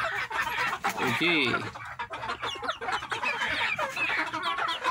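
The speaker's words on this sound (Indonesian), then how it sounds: "ayam paling gagah dan perkasa" Village chickens, including a four-month-old rooster, cluck and squawk steadily and up close on a backyard farm, with someone talking over the flock.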